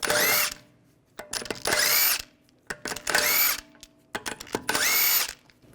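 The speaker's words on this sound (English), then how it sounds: "Using a 17mm socket, take the lug bolts out." A power tool with a 17mm socket spins out rear wheel lug bolts on a 2009–2017 Volkswagen Tiguan, four loud close whirring bursts with brief clicks and clanks between them.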